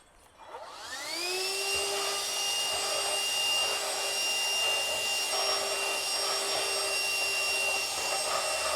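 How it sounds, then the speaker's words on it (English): A vacuum cleaner sucking up drilling shavings during a tongue box install on a 2022 Runaway Rangerunner camper whines up from silence and settles into a loud, steady high-pitched drone that runs throughout. "Vacuum up those shavings."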